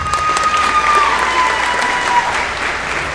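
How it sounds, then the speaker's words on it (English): A graduating high school class of 2023 applauds at their ceremony, a dense, steady wash of clapping from a large crowd that holds at even loudness for a few seconds. "Give yourselves a round of applause."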